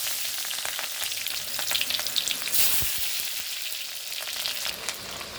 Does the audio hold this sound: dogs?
no